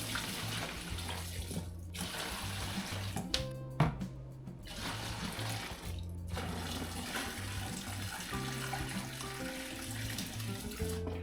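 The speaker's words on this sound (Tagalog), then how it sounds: "So ayan. Lagyan natin ng tubig." Tap water running steadily into the tub of a small 4.5-kilo washing machine, a continuous moderate rush with brief splashy shifts and no talking.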